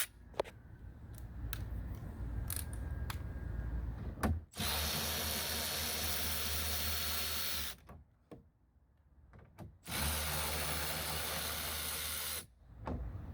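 A power driver with a 4mm Allen bit spins bolts out of a 2017-2024 Yamaha EX/VX TR1 engine, two loud sustained whirring runs of several seconds each, preceded by small clicks and handling noises.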